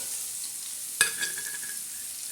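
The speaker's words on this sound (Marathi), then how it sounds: "तव्यावर आपण तेल टाकलेलं आहे प्रथम त्याच्यानंतर आपण ही चटणी टाकलेली आहे" Khurasni chutney fries in oil on a hot griddle, a soft steady sizzle with one sharp scraping clack of a utensil and a few lighter taps after it.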